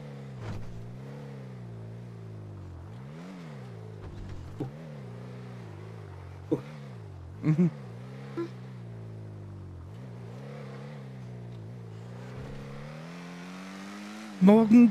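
A car drives through a GTA roleplay game world, its engine droning smoothly with gentle rises and falls in pitch. A few short clicks and knocks break in along the way, and a burst of louder engine or road noise comes at the end.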